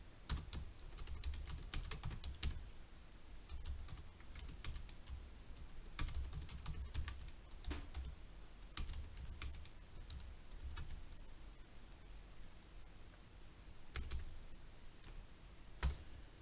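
Fingers type on a computer keyboard while notes are entered into an Excel spreadsheet, a long, steady stream of soft, close key clicks with occasional louder taps and brief pauses, and no talk.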